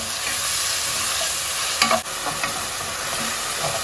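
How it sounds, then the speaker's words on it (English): Chopped tomatoes frying in a pan for brown lentil dal, a steady close sizzle with a few brief stirring scrapes and clinks, no talking. "And then goes in the chopped tomatoes. And I'm just going to cook this for 5 minutes until they begin to soften."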